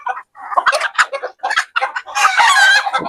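Brood cock roosters in a backyard setting clucking in short, choppy bursts, then breaking into a long, loud crow near the end, all close and dominant with no talk.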